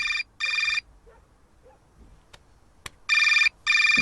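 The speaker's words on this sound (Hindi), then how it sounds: "ये देखो मनाहिल का ही फोन आ रहा है दोबारा।" An incoming call rings on a telephone: two short electronic ring bursts, a pause with faint clicks, then two more bursts, clear and fairly close.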